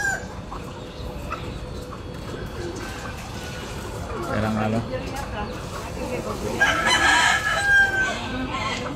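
A fighting rooster kept for cockfights crows once with a drawn-out call near the end, with some clucking. It sits beneath steady talking outdoors in a backyard.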